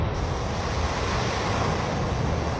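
Storm-surge water and waves churn during a super typhoon, a loud, steady roar of rushing water and wind with no break and no voices.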